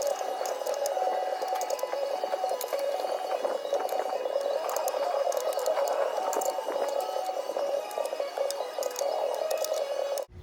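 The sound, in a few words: bolts being backed out on a Jeep Wrangler YJ transfer case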